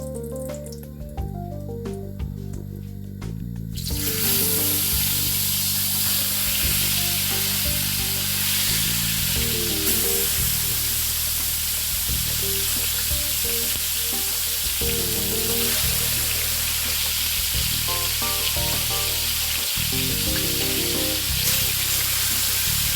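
Chicken pieces hit hot ghee that is a mix of desi and vegetable ghee, bursting into loud, continuous sizzling frying after a few seconds of quieter kitchen noise, with the crackle holding steady throughout.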